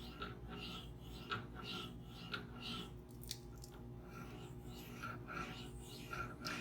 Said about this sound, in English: And this is polishing the bevel.